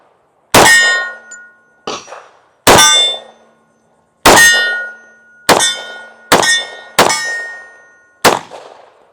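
A .45 pistol fired at a steel target on an outdoor range: seven sharp, ringing metallic clangs spread over several seconds, each ping fading out before the next, loud and close with no talk.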